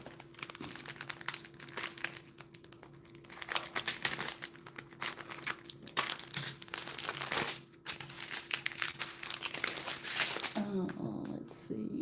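Close, busy crinkling of a plastic diamond painting kit bag being cut open with scissors and pulled apart, with rustles and snips running throughout and a voice talking at times.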